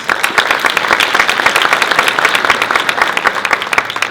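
Crowd at a city's state-of-the-city address applauds the vice mayor, loud close clapping with a steady patter throughout and no speech over it.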